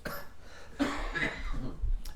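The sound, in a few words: cough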